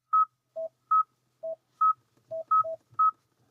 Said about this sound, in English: I feel like I'm dialing a phone number here